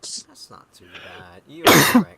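A single sharp, loud cough bursts out close to the microphone during a casual chat in a flight simulator session, coming right after a few short spoken phrases.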